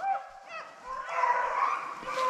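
Beagles on a rabbit hunt give tonal yips and whining bays as they chase a rabbit through corporate land, a pack voice rising and holding fairly close through the clip.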